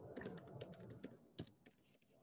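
Computer keyboard typing in a quiet room, a run of quick, close key clicks with irregular spacing and a slightly louder burst near the middle.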